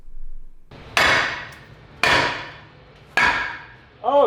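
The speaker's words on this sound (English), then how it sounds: "it took hammering all around the face and the sides, and that finally helped free it." A hammer strikes a seized brake part on a Ford F250 truck to knock it loose: three sharp, heavy blows about a second apart, each ringing out and fading, close and loud with nothing else heard.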